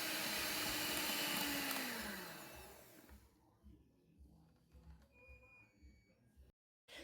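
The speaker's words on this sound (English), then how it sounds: "And then I'm going to whisk with the machine so that I can save us on time" An electric hand mixer whirs loudly at first while whisking cake batter in a home kitchen, then fades to a faint hum under background noise.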